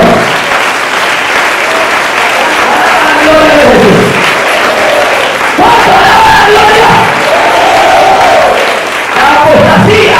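A church congregation breaks into loud, sustained applause with shouting voices mixed in, filling the worship hall throughout.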